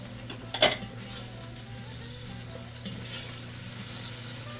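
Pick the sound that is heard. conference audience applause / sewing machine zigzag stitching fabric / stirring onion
stirring onion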